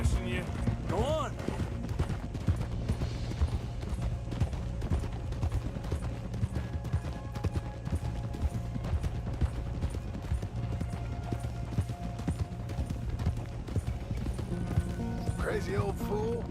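Horse hooves clip-clop steadily in Red Dead Redemption 2 during a ride to steal thoroughbreds from a manor, with a whinny near the start and near the end, under continuous talk and game sound.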